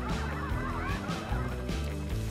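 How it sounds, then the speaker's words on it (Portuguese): Hen clucking in the animated film Chicken Run 2, a series of loud, close, nasal squawking calls in quick irregular bursts, with no talk over them. "Tem uma galinha sentada dentro de um balde e ela tá assim."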